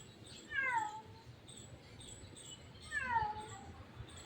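Two clear cat meows, one early and one near the end, each a short falling cry over quiet outdoor background noise.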